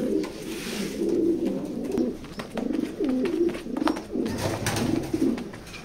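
A pair of racer pigeons coos repeatedly and close by, soft throaty rolling calls in a steady series with a little wing and handling noise, no talking.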